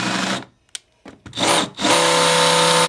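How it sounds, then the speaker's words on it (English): Power drill cutting a countersink into a zero clearance throat plate for a Ridgid TS3650 table saw, a couple of short whirring bursts and then a loud sustained high drilling whine up close. "Let's put a good countersink on this thing now."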